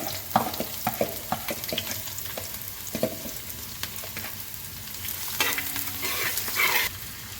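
Garlic, cinnamon, cardamom and cloves sizzle in hot oil in a pan for mutton kurma, with a spoon scraping and stirring at irregular intervals over the steady frying hiss.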